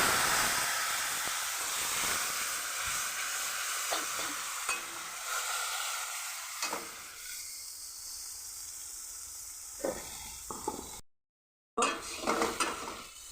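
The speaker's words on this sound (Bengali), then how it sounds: "ওগুলা দিয়ে দেব, দিয়ে আমি একটু কষিয়ে নেব।" Tomatoes and coriander leaves sauté in a pan for sheem chorchori, giving a steady close sizzle broken by scraping stirs and occasional utensil knocks, with a brief silence near the end and no talk.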